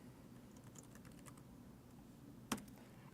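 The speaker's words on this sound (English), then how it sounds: "type in the information" Several soft keystrokes on a computer keyboard while entering text into a customer chat box, ending in one sharper, louder key press near the end, with no talking.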